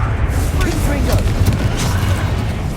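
A Confringo fire spell bursts in Hogwarts Legacy, a heavy continuous rumble of booming blasts layered with dense game effects and music, loud throughout.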